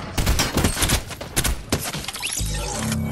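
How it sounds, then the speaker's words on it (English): Rapid bursts of Fortnite gunfire crackle loudly and densely, overlapping shots in a fast volley, then trail off into a lower rumble. "Gunshots, why?"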